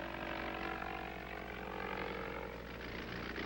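An early boxy propeller airplane in flight drones steadily, its engine and airscrew making a continuous buzzing roar from inside the aircraft, without any voices.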